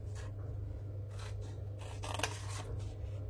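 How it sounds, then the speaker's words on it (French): Scissors snip bevels into the corners of a large cardboard paper box, several quiet close cuts with a soft rustle of board, and no one speaking. "on reprend notre paire de ciseaux et on vient faire nos biseaux"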